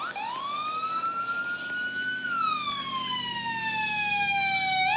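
Police siren from the video game Greenville, a single rising then slowly falling wail that carries clearly across the scene with no talk over it.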